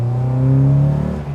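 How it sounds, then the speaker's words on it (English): A Honda Accord with electronic throttle revving hard under load, its loud exhaust giving a close, sustained engine roar that rises and falls in pitch over a brief moment, with no voices. "The exhaust, when you're on it, makes an almighty racket."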